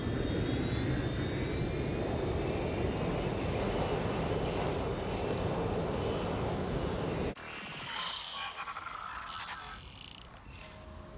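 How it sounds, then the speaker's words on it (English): An airplane flies in the video game Watch Dogs Legion, its engines droning loudly with a rising whine, then the sound cuts abruptly to a quieter, rougher background hum, without talk. "Luckily, you can reroute the plane."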